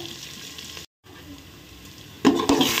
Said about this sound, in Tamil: இப்போ வெங்காயம் கொஞ்சம் வதங்கிட்டு வருது